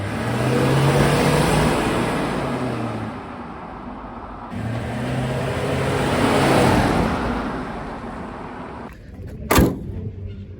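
A 1975 Mercedes 450 SEL 6.9 big V8 rises and falls through two strong revs, a loud, close, smooth metallic roar, ending with a brief sharp knock and no talking.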